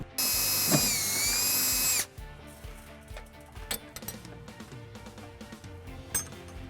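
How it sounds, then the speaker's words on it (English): A power drill with a 11/64 bit whines loudly at high speed for about two seconds, drilling holes in a 2015 Dodge Durango's body, then stops, followed by scattered clinks and light metallic handling. "I'm drilling 2 holes using a 1164 drill bit"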